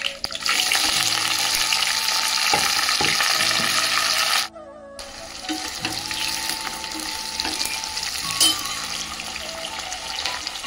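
Green chillies, onion, curry leaves and tomato fry in a pan with loud, steady sizzling and crackle, then a short gap and quieter sizzling with a few clinks of stirring, no speech.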